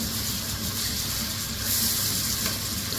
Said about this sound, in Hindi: अच्छा, तो वो टमाटोज ऐड करते हैं। फ्लेम मीडियम ही है मेरा और इसे भी मैं सॉफ्ट होने तक कुक करती हूँ